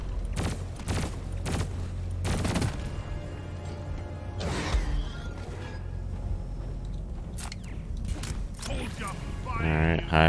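Rapid gunfire from a weapon shooting a cocoon in the video game Deep Rock Galactic, loud mechanical bursts and clatter over a rumbling game soundscape, with a few sharp impacts and a brief crash near the end.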